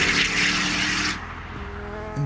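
A British-built Bowler EXR S off-roader sounds close and loud, with a hissing tyre and wind rush over a strong engine drone that drops away after a second, leaving a lower engine tone.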